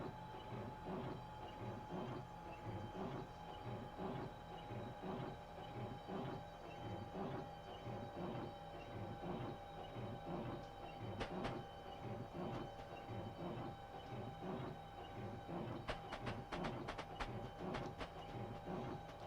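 Class 395 high-speed train rolls into a platform on the London–Faversham line, heard from inside as a steady low rumble with faint rhythmic clickety-clack and occasional sharp ticks, all fairly quiet.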